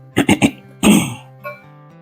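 A person coughs close up: a quick run of three coughs, then a longer throaty cough, fading into a faint final one.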